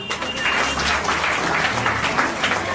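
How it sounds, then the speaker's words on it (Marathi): Audience applause at a beauty queen contest in Ambernath, a steady crowd clapping that holds at an even level for the whole stretch, dense and continuous without a clear break. "सगळ्यांनी टाळ्या वाजवा"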